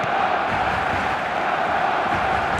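Stadium crowd in eFootball 2026 during a Barcelona match, a constant dense roar of cheering and chanting, loud and unbroken.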